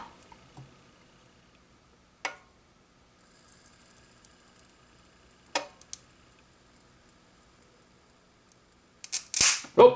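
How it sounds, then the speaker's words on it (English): High-voltage arcing from the flyback of a 27-inch Neotec 600DX arcade monitor: sparse sharp snaps and clicks, a few isolated cracks spread apart, then a louder burst of crackling sizzle near the end, heard alone. "you're going to hear some clicking and some sizzling, and you'll start seeing high voltage leak directly out of the flyback here"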